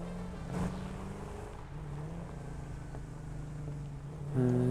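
A car driving in a video game, its engine a low, faint steady hum with a few brief rising tones near the end, no talk.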